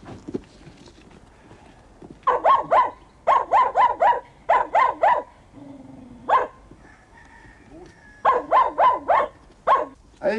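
A dog barks outdoors in loud, close bursts of three or four sharp barks, with short pauses between the volleys and no talking.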